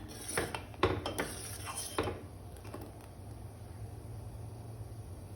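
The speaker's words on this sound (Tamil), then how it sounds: "பொங்கி வரும்போது அடுப்பை கம்மி பண்ணி கிளறிட்டே இருங்க." Black urad dal porridge is stirred in a pot on the stove, with a few scraping clinks of a spoon against the pot in the first two seconds, then a low steady hum of the cooking.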